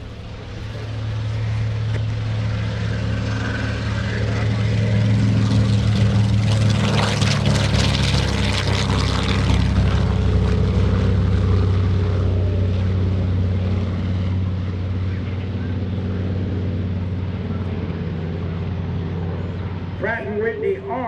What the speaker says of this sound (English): I hear engines revving up.